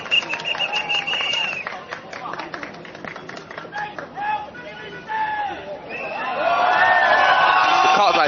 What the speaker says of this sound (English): The crowds are cheering and encouraging him to be the next health minister.